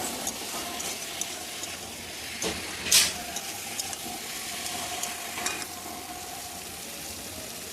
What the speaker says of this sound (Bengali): তো লবণ হলুদ আমার দেওয়া হয়ে গেছে এবার ভালো করে নেড়ে ছেড়ে নেবো